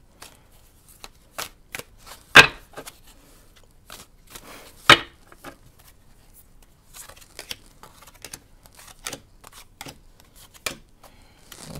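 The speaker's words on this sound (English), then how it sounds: "Now we're going to draw five more cards." Tarot cards are shuffled and drawn by hand, with soft riffling and papery slaps, two sharper snaps standing out, and scattered light flicks and taps through the stretch, close and quiet with no talking.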